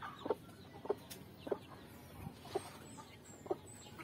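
A bantam chicken clucks in short, spaced calls, about six over a few seconds, moderately close in a quiet backyard coop.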